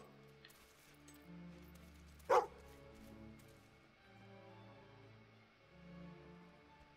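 A single short, sharp dog bark rings out in the Fable 2 video game, standing out over a quiet, steady game music bed.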